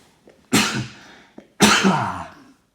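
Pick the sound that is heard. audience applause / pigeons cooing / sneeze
sneeze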